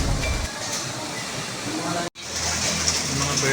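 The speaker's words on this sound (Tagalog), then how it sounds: "Lakas po ng ulan." Heavy rain hisses steadily and loudly in Batangas, Philippines, broken by one brief cut, with a voice speaking over it.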